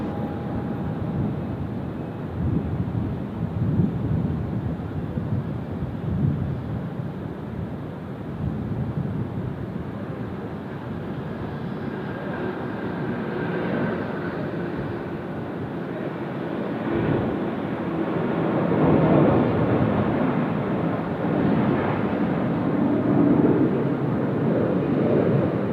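A heavy aircraft taking off at Sydney Airport, a long broad roaring rumble heard from a distance that swells toward the end, mixed with wind buffeting on the microphone, no talk.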